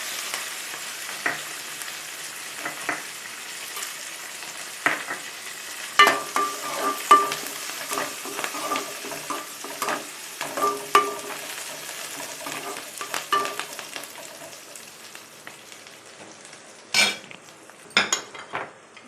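Curry leaves and chana dal frying in a pan for vangi bath, a steady sizzle broken by repeated scrapes and clinks of a spoon stirring against the metal, close and fairly quiet, with no talk.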